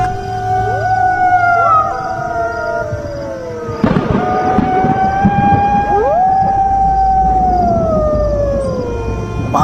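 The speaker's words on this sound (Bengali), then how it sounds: "কানে ভেসে আসছে শিয়ালের ডাক" Jackals howl at night, several long wavering cries rising and falling and overlapping, steady and fairly close, with a short sharp rustle near the middle and no voices.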